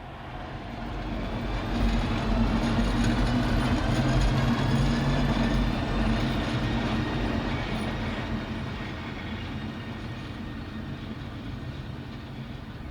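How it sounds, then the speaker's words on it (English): A green Class 151 locomotive rumbles past with a loud, steady diesel drone and rolling wheel noise that swells to a peak mid-way and then slowly fades. "one of the last remaining green Class 151s was on duty"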